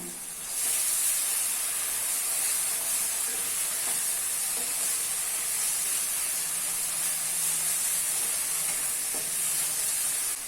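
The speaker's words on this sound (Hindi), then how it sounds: "अभी इसमें 3 चम्मच जितना दही ऐड कर लेना है और मिक्स कर लेना है।" Tomato mutton masala hisses and sizzles loudly and steadily as yogurt is stirred in, with a bright spitting crackle and occasional faint clinks of the spoon.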